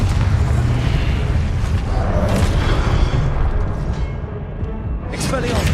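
A Confringo blasting spell explodes in the Hogwarts Legacy video game, a loud continuous booming roar with dense low rumble sustained throughout and bursts of crackle near the end, with a voice calling spells over it.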